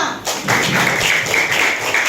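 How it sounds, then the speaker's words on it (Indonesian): Students in a primary school classroom clap for their class in a brief, close burst of uneven hand claps and taps lasting about two seconds. "Tepuk tangan untuk kelas 5."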